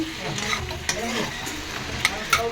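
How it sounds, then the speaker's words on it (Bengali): Food cooking in a kitchen pan, with a steady close-up sizzle and stirring, and a few light scrapes and clinks of a spoon against the pan. "তো এই দেখো এখানে কিন্তু রান্না হচ্ছে"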